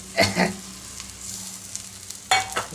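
Fried dried fish stirred into a cooked spice paste, two bursts of wet scraping and mixing at the start and a third near the end, with a low sizzle between them.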